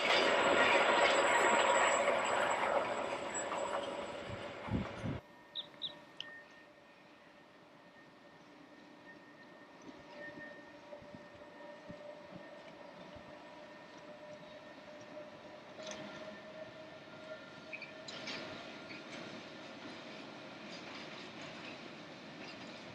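Train on the Bernina railway descending toward Tirano, a loud rumble at first that drops to a steady, quieter running hum with faint wheel clicks and occasional squeals.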